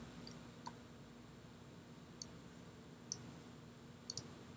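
Computer mouse buttons click in a quiet room, with a few sharp single clicks spaced about a second apart and a quick double click near the end.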